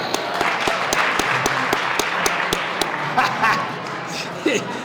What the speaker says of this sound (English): If you can hear me, please clap.